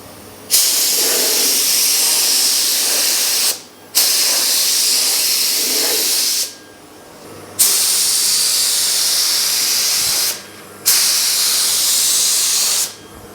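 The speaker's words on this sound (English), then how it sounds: "let's load up the gun and get some spraying done" Loud bursts of hissing spray from a spray gun applying automotive primer to GTO car doors, each lasting a few seconds, separated by brief pauses, repeated four times in a steady on-off pattern.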